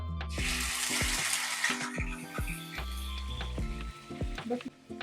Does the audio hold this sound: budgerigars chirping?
no